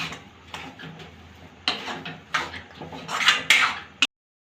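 Mashed bread pakoda filling with coriander being mixed in a bowl, heard as a series of irregular scraping clinks and taps of a utensil against the dish, close by, ending with a sharp knock.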